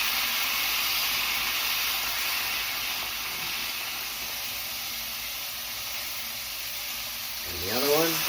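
Oklahoma onion smash burgers sizzle on a hot flat pan, a steady broad hiss running throughout with a brief rising scrape or voice near the end.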